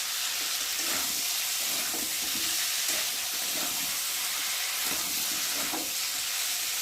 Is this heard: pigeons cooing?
no